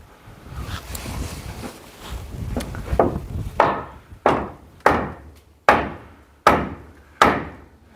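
After some rustling and handling noise, a lump hammer knocks solidly on slatted timber six times in a steady, evenly spaced rhythm, close and loud.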